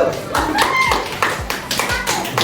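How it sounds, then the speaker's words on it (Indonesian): Children in an Indonesian primary school classroom clap in short rhythmic bursts, a few sharp group claps mixed with voices talking over them. "tepuk tangan Cucu."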